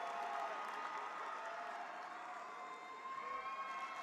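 An enthusiastic crowd cheers and applauds at a college fall commencement ceremony, a dense, steady roar of voices and clapping that holds at an even level throughout.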